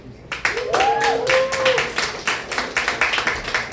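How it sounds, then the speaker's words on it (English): A comedy show crowd at the Tap House in Osborne Village claps for a drop-in guest. The applause is steady and close, with a host's voice talking over it at the start. "keep that applause going for our special guest drop-in, Scott Kay"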